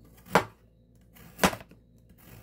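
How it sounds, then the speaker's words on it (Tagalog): Two separate knife strokes thinly slicing carrots on a cutting board for Korean rolled eggs, each a short, crisp chop close by with a pause of about a second between them. "Kailangan manipis lang po ang pagkahiwa ng ating carrots."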